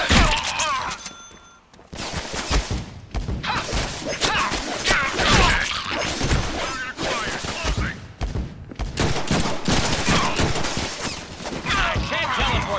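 Rapid bursts of gunfire and crashing impacts keep sounding during combat in the Deadpool video game, loud and dense, with game voices talking now and then between the shots.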